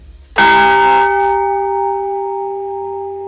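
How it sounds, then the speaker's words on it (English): A single loud strike of a hammer on a clock bell rings out clearly, its metallic tone sustaining and slowly fading over several seconds. "It should then give a good ring to the bell, and this is how it sounds."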